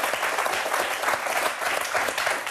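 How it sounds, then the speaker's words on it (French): Steady, dense audience applause fills a French television talk-show studio, evenly loud and continuous throughout with no voices standing out. "on peut effectivement vous applaudir"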